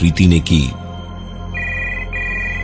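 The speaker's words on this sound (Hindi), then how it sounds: "प्रीति ने जाकर फोन उठाया" A telephone rings in two steady electronic bursts after a short stretch of talking, the ring clear and moderately loud over a low background hum.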